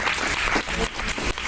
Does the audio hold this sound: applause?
yes